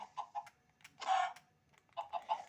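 Minecraft chickens cluck in short, rhythmic bursts with a brief squawk in the middle, close and clear with no talking.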